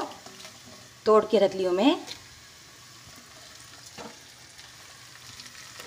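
Dried red chillies and asafoetida fry in browned oil in a home kitchen pan, a faint, steady sizzle running underneath a short stretch of someone speaking, then continuing alone.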